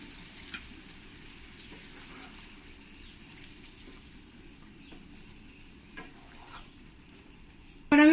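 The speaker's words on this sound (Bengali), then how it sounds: "ভালো করে নাড়িয়ে দেবো" Quail meat curry is stirred in a pan after a little water is added, with a low, faint sizzle and a few soft scrapes of the spoon, ending in a louder clatter.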